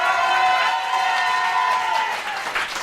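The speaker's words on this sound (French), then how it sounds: "je vous demande d'applaudir très fort Steph" A studio audience applauds and cheers at a steady, loud level for nearly three seconds during a televised variety show, the noise swelling slightly before easing off.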